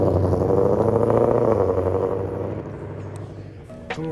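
Ford Mustang Shelby GT500 driving away, a loud rumbling V8 idle and pull-off that fades as the car recedes, ending with a brief clatter.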